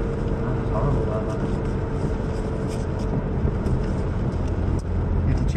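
McLaren 720S sports car driving at Prestwold, a dense steady engine and road roar heard from inside the cabin, loud and continuous with people talking over it.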